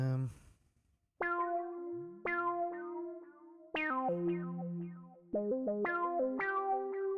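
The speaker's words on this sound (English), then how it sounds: "I'm going to put the Moog in, and we're going to put a delay on that as well" A Moog synthesizer plays sustained melodic notes through an Echo Boy delay, each new note entering sharply and trailing off in repeating echoes, with gritty distortion and chorus colouring the tone.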